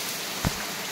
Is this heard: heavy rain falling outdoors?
yes